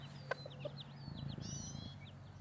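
Silkie chicks and a young rooster in an outdoor pen give soft, quick clucks and high chirping peeps, with a couple of sharper calls early on, faint and close, with no talk.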